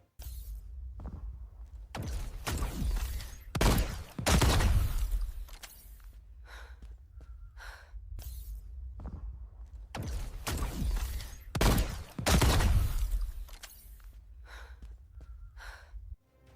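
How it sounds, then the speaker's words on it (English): AI-generated audio: heavy, ragged breathing repeats in long gasping waves, punctuated by sharp bursts of gunfire, with a low rumble underneath throughout. "Our character is breathing heavily, and you can definitely hear that, as well as sounds of the gunfire"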